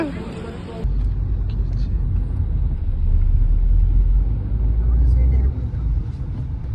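A car idles and runs steadily nearby with a low, continuous engine rumble. It follows a brief burst of louder noise at the start and has no speech over it.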